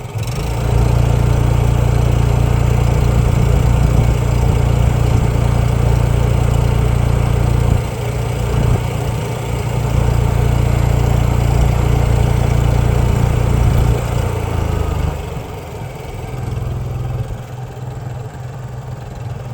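A Honda EU3000 portable inverter generator idles steadily and loudly nearby, its low engine hum continuous and even throughout, easing slightly toward the end after being switched out of eco mode.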